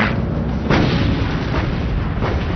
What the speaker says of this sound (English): Laffey's 5-inch guns quickly open fire